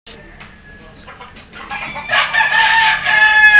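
A sick chicken clucks and crows close by in short bursts, its calls growing louder and strained toward the end.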